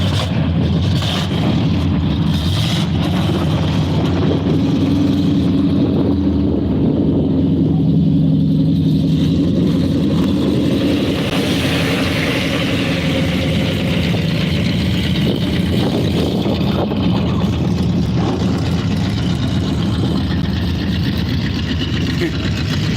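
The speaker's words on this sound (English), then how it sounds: "Looks like the stock cars are lining up." Stock car engines rumble and idle steadily at Vado Speedway as cars line up, a continuous low engine drone close by with crowd noise and faint talk mixed in.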